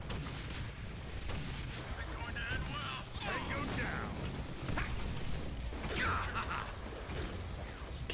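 Booming grenade blasts and gunfire from the Deadpool video game, rumbling explosions and clatter heard continuously and loudly, with voices talking over the action.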